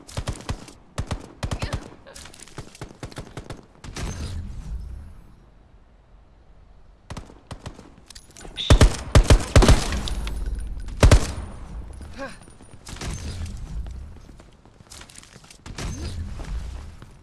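Gunfire in the online shooter game Veiled Experts comes as sharp, loud shot bursts among footsteps and other game effects, with rapid clusters early and a few heavy blasts near the middle.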